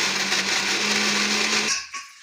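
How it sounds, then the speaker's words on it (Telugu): A kitchen mixer grinder blends chopped carrots without water for carrot halwa. It gives a loud, steady whirring drone that cuts off abruptly and winds down near the end. "మిక్సీ గిన్నె తీసుకొనేసేసి మొత్తం అయితే మిక్సీ గిన్నెలోకి వేసేసేసి మెత్తగానైతే మిక్సీ అయితే పట్టేసేయండి"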